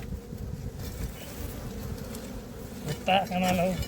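A swarm of roughly ten thousand honey bees drones in a continuous, close buzzing hum in a Karnataka village, with a brief voice rising near the end.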